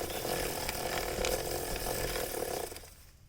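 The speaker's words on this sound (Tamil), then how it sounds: "ஸோ முடிஞ்சிச்சு, ப்ரஷ் வச்சு க்ளீன் பண்ணியாச்சு." A brush scrubs the drive chain of a Jawa 42 motorcycle, giving a steady raspy, ratcheting scrape that holds at a constant level for about two and a half seconds and then fades out.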